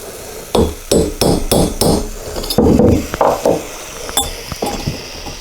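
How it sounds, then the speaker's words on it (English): Metal tool taps a push rod tube, fitted over a mandrel, into the cylinder head of a 1983 BMW R100RS motorcycle: a close run of sharp knocks, several quick strikes, then a pause and a few lighter taps, with no talking. "Then I'm going to insert the mandrel into the tube and then insert the tube into the hole."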